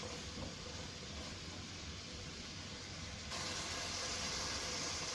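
Boneless mutton karahi frying in oil, a steady dense sizzle throughout that grows slightly brighter and louder partway through, with no talking.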